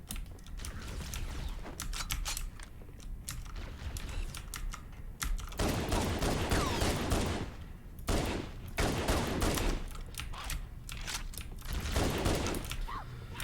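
Repeated short bursts of assault rifle fire in Halo: Combat Evolved crackle through a busy game soundscape, with sharp clustered shots recurring in quick volleys across the stretch.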